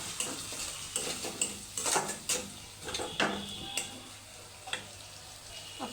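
Spices with salt, turmeric and green chillies are sautéed in a pan for a bottle gourd and egg curry, with a spatula scraping and clinking in scattered strokes over a faint sizzle.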